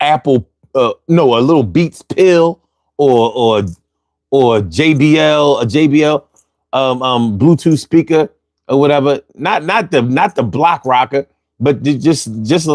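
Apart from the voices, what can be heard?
No everyday noise stands out behind the speech.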